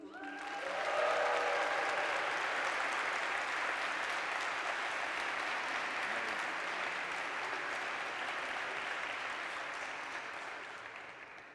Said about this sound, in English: can we give a big round of applause for our Madrid team?